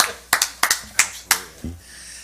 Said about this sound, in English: Got a little golf clap going on back there